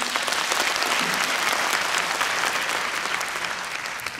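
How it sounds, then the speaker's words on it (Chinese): A large audience at a company testimonial convention in Taipei breaks into warm, dense applause that holds steady and loud through the whole stretch, with no voices over it. "我们给我们自己一个热烈掌声"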